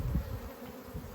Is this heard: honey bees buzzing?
yes